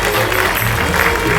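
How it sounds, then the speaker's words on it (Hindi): Applause from a theatre audience for the performers of a Ramlila staging at Tagore Theatre in Chandigarh, a dense, steady wash of clapping that fills the whole short stretch at high level with no voices over it. "इन तमाम कलाकारों के लिए मैं चाहूंगा एक बार जोरदार ताली वापस दी"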